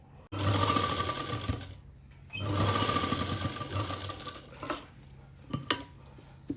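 An electric sewing machine stitches a seam on fabric while sewing a Punjabi kali frock, running in two steady, loud bursts with a pause between, followed by a few softer clicks and knocks nearby.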